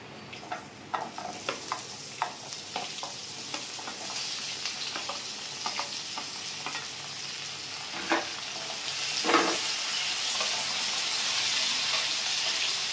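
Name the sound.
eggplant pieces frying with onions and green chillies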